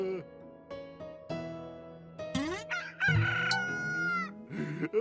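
A rooster crows in a long, rising then falling cock-a-doodle-doo, loud and close, joined by clucking chickens and soft fowl calls around it.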